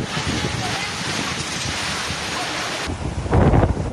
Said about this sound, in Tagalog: Malalaki ang mga alon.